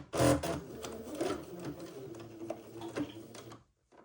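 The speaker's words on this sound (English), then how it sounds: "I'm going to sew these side seams." A sewing machine stitches quarter-inch side seams on an Eton suit, making a close, quiet mechanical chatter in uneven bursts that stops abruptly near the end.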